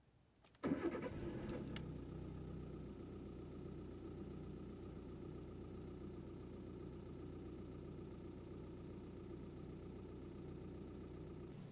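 A car engine cranks and starts with a sharp burst, then settles into a steady, close idle that runs to the end with a faint rattle, picked up near the ignition.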